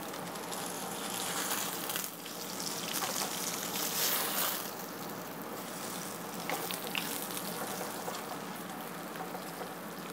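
A Key West lane snapper fillet sizzles in olive oil in a frying pan, giving a steady, crackling hiss with small pops that continues evenly throughout at moderate loudness, with no talking.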